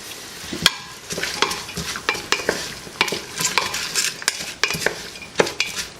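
Green chillies with a pinch of salt sautéing in a pan for Kerala-style beef kidney curry, with repeated sharp scrapes and clinks of a spoon against the pan over a light sizzle, close and fairly loud, no voices.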